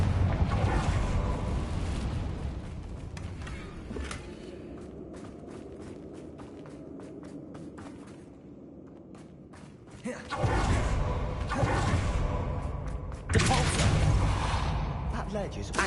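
Confringo fire spells explode in Hogwarts Legacy combat, with loud broadband blasts around the tenth and thirteenth seconds over a busy game mix of footsteps and thuds. Earlier impacts are sharp and scattered, and a voice speaks in parts.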